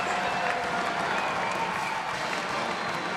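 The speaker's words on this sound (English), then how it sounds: "the crowd is loving it here in Raleigh" The crowd at an NC State women's basketball home game in Raleigh cheers and applauds against Notre Dame, a dense, steady roar of clapping and voices filling the arena without a break.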